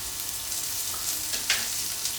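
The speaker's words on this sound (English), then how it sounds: "Bit of oil in the pan for the onions. Chopped onion can go in." Chopped onions frying in oil in a pan, a soft continuous sizzle with a few brief stirring scrapes, close and fairly quiet.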